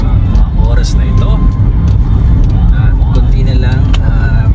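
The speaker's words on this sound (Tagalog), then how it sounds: "yan ang lagay ng traffic ko sa mga oras na ito" Steady car traffic on a busy city road around 1 a.m. in the Ilocandia region, a continuous loud rumble of engines and passing vehicles with faint voices in the background.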